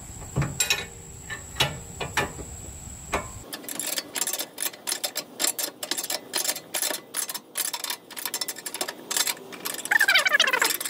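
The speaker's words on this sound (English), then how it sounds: "what I'm going to start doing is tightening up the top. This is a godsend, by the way. If you don't have a 27mm like long box wrench" Long box wrench works a nut on a Volkswagen Bay Window Bus suspension beam, giving a rapid series of sharp metallic clicks and ticks in uneven bursts, close up with no talk.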